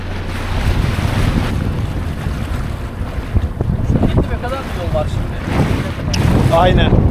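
Gusty wind of about 20-25 km/h buffets the microphone over the wash of water and a boat off Datça, Turkey, with a few faint voices now and then.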